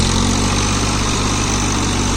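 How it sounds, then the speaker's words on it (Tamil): A John Deere 3028 EN 28 HP mini tractor engine running steadily nearby, a loud continuous diesel drone with an even low throb. "John Deere mini tractor"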